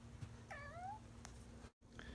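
A cat hidden under a rug gives one clear, fairly faint falling meow, with a hint of another cry at the end, over a quiet steady background hum.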